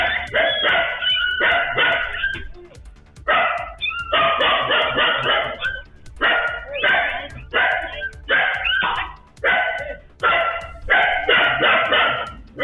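Puppies and dogs yelping and barking in dense, continuous bursts, loud and close, with brief pauses between volleys and possible voices mixed in.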